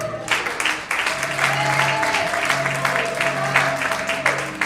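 A church congregation claps together in sustained, dense applause that carries on without a break, with a steady held musical tone beneath it.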